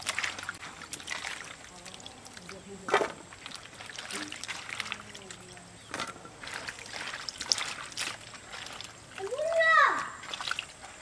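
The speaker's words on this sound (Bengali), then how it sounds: "লাউগুলো ধুয়ে নেব" Bottle gourds are rinsed by hand in water in a village kitchen, with soft intermittent splashes and sloshing, a few louder dips, and faint voices and a bird call in the background.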